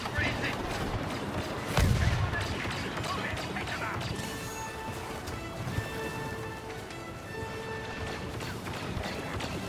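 Scattered gunfire and a heavy crash in Star Wars Battlefront 2, with a loud impact near the start followed by ongoing shooting and battle noise, and people talking throughout.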